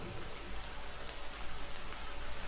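A relaxation app's rain effect: steady rainfall patters on a surface, a dense, even hiss of drops with a soft low rumble, continuous throughout without any voices.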